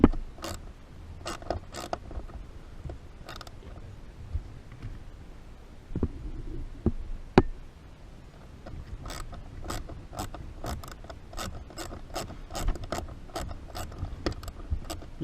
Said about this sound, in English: just remove these screws